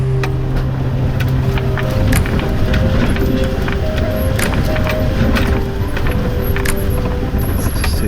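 A heavy truck engine revs hard on a run up to Turkey Land Quarry on the Isle of Man, a loud continuous mechanical roar with rattling and road noise filling the whole stretch.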